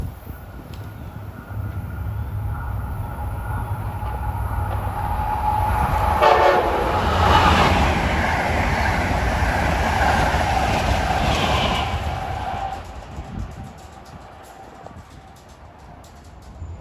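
An Amtrak Acela Express train bound for New York, running from Washington to Boston, rushes past on a New Jersey line with a loud swelling roar, its horn sounding briefly mid-pass before the noise fades away.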